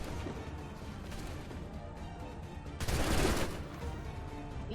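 Volley of gunfire from a group of soldiers in Assassin's Creed 3, a dense crackling burst erupting about three seconds in over a busy background of distant shots and battle noise.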